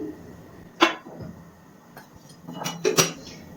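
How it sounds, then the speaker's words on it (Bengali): A clay lid is lifted off an earthenware sara pitha mould used for rice-flour pancakes, giving a few sharp ceramic clinks and scrapes spaced over a few seconds, with quiet stillness between them. "এবার ঢাকনাটা তুলে নিচ্ছি।"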